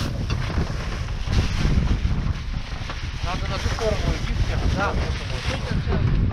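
Strong wind roars steadily across the microphone the whole time while rafting on a river, with faint splashing water and a few distant chirps beneath it.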